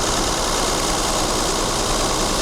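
A Mercedes W126 280SEL engine with worn-out engine mounts idles with a steady, rough rumble and heavy shaking, constant and close, with no voices over it.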